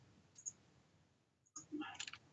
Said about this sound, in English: you hear some very quiet background noise, and you hear him clicking the mouse button